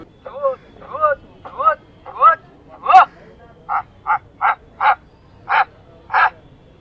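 A crop-protection sound device for scaring wild pigs away from fields plays recorded barking of a loud dog such as a German Shepherd: about eleven sharp, evenly spaced barks, loud and close, with no other sound between them.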